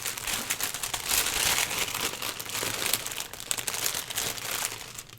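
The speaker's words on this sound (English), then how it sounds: "Sorry about the crinkling." Seam binding packaging crinkles close to the microphone in continuous, uneven bursts of rustling for several seconds, with no talking.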